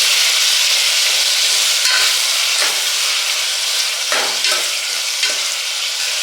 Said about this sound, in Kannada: ಟೊಮೆಟೊ ಸ್ವಲ್ಪ ಮೆತ್ತಗಾಗೋವರೆಗೆ ಫ್ರೈ ಮಾಡ್ಕೊಳ್ಳಿ.